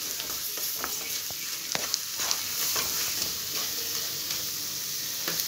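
A steady, moderately loud sizzle of frying in a pan ahead of the chicken going in for a Christmas chicken curry, with scattered clicks and taps of a spoon stirring through it.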